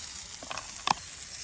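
Oil sizzles in a pan over a campfire outdoors, a soft steady hiss with a few brief pops and crackles near the end.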